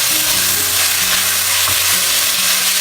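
Tawa biryani mixed in a hot pan gives a loud, dense, continuous sizzle, close and unbroken, with faint stirring movements beneath it.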